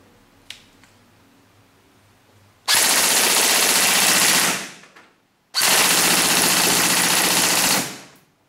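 A Tokyo Marui M4 airsoft gun fires two long full-auto bursts at about 15 rounds per second on an 11.1 volt battery, each lasting around two seconds with a sharp rapid buzzing rattle, loud and close, separated by a short pause.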